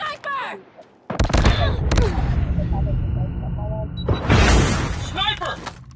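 Sharp bursts of gunfire from a shooter video game, including sniper fire, crack loud and close in clusters, mixed with game voices and chatter.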